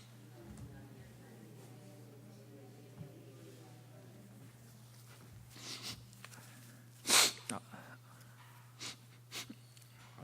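A single sharp sneeze from a man bursts out partway through, after quieter breathing and sniffing beneath a steady low hum in a room where he has been speaking.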